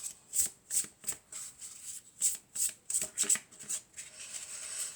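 A deck of tarot cards being shuffled and cut by hand, with a run of close, crisp riffling bursts in an uneven rhythm and no talking.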